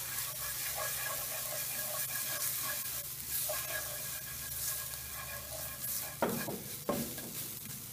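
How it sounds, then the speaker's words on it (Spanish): Garlic sizzles in a small amount of oil in a pan, a steady soft frying hiss with light stirring scrapes and a couple of sharper clinks near the end, no talking. "Vamos a sofreír este ajo."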